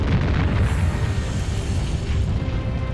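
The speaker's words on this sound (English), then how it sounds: "The first explosion was followed by another massive explosion." A loud, sustained rumbling roar, deep and continuous, like a massive volcanic explosion billowing out without letting up.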